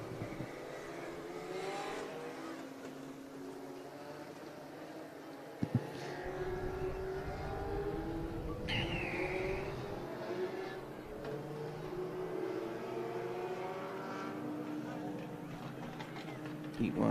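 Race cars in a heat race at Stockton 99 Speedway, engines droning and revving at a distance, rising and fading as cars circle, with a commentator talking over the track noise.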